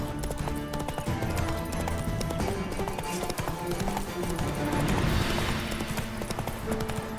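Geralt's horse gallops in The Witcher 3, its hooves beating a steady rhythmic clip-clop throughout alongside other game sounds.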